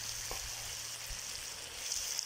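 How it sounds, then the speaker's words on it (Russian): Carrots frying in a pot over a wood campfire for plov give a steady, even sizzle close by, with a few soft low knocks and no one talking. "Чтобы морковочку еще обжарить до готовности."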